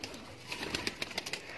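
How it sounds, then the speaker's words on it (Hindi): A Teddy pigeon, a breeding bird, gives soft, faint cooing in a short series of brief pulses, close by and with no talk over it. "यह टैडी कबूतर है"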